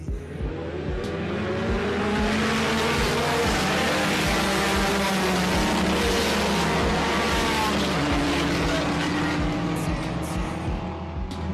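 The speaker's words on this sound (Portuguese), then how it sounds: "Foi uma largada com praticamente 30 carros de época, muito emocionante, muita disputa." Some thirty vintage race cars at the start of a race at the Interlagos circuit, engines roaring and revving loudly in a dense, continuous pack, with cars passing close by and brief tyre squeals.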